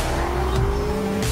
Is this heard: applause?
no